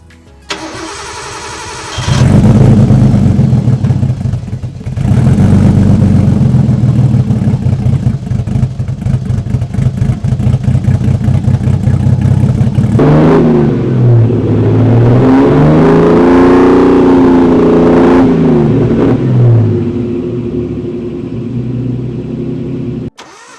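Nissan 240SX engine cranking and catching, then running at a high warm-up idle and revving up and down in a couple of swells before settling, loud and close with no talk.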